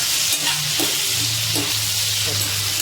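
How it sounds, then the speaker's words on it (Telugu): Tomato pieces sizzle and fry in a pan while a spoon stirs them in a few scraping strokes, under a constant loud hiss. "టమాటా ముక్కలు వేసుకున్నాం. ఒకసారి అంతా తిప్పుకున్నాం."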